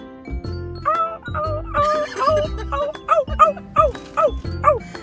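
A man imitates a dog yelping after being beaten, letting out a string of high, wavering yips and whimpers in uneven bursts. His low, close voice sits under and between the cries.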